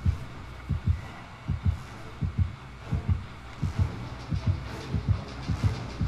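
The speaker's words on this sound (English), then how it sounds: "Heartbeats." A heartbeat in the video game Dead by Daylight thumps in a steady, low, double-pulsed rhythm, about two beats a second, loud and alone without talk.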